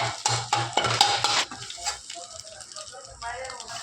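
Metal spatula clanks and scrapes rapidly against a pan, chopping and tossing street-food fried rice into kothu style. A burst of loud clatter at first, then lighter scraping, with a voice talking over it.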